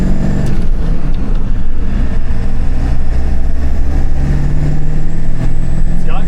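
A 7.3 diesel truck engine runs steadily in a loud, low, continuous rumble heard from inside the cab while driving, with faint voices mixed under it.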